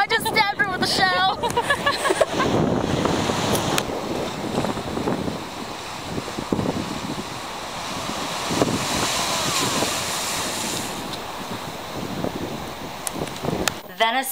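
Pacific Ocean surf at Venice Beach, Santa Monica, rolls in as a continuous broad roar of breaking waves, with strong wind buffeting the microphone throughout and a brief voice near the start.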